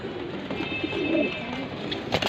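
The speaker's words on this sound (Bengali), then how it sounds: "তিন পেয়ার মাক্সি রেসার সবগুলোই রানিং কবুতর" Soft, low coos from Maxi Racer pigeons murmur close by over a dense background hum, with a few brief rustles and flutters.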